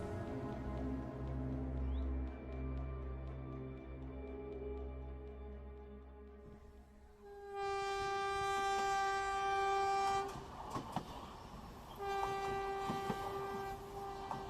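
A train pulls away from Howrah station with a long rumbling roll, then loud sustained horn blasts and clanking carriages, used as a dramatic sound effect.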